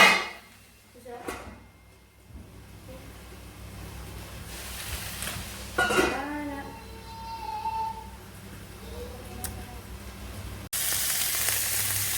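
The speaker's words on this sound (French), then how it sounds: "le wok qui continue à bien cuire" Red cabbage frying in a wok over high heat, a continuous hissing sizzle with occasional scrapes and clatters of stirring, and a voice speaking briefly partway through.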